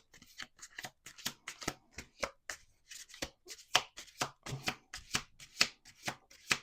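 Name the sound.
shuffling playing cards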